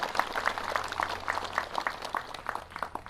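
An audience claps in steady, rhythmic applause to thank the flower-arranging team at an outdoor Catholic May devotion honouring Mary. The clapping is moderately loud, continuous and even, with no talking over it.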